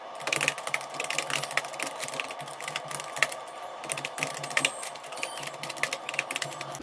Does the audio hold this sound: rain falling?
no